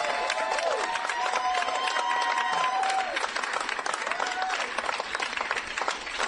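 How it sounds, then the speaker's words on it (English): An audience at a Prop 19 concession event in 2010 applauds continuously, a dense wash of clapping with a few cheers, loud and sustained throughout. "give yourselves a round of applause"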